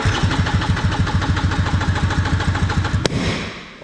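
An Italjet 180 dragster scooter with no exhaust fitted cranks in a fast, loud, even chugging rhythm for about three seconds, then a sharp bang cuts in and the engine sound dies away without catching.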